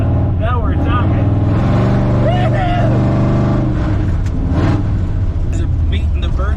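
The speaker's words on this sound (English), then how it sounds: "That engine just sounds wicked." Big block V8 engine revving loudly in a continuous, rising and falling roar, with people talking and cheering over it.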